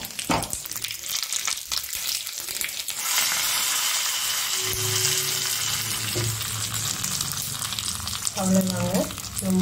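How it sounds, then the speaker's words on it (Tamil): Tempering poured into a bowl of ground peanut chutney bursts into a loud, dense sizzle that holds steady, with a few scraping and clinking sounds near the end and no voices. "தாளிச்சது எடுத்து நம்ம அரைச்சி வச்சிருக்கிற சட்னியில் போட்டுக்கலாம்."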